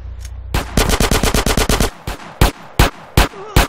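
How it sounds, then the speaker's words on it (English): Rapid gunfire from the video game GTA San Andreas, including pistol shots: a fast burst of about a dozen sharp cracks, followed by five slower, spaced single shots, loud and close. "There, I aim better with the pistol."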